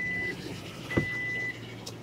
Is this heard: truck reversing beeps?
yes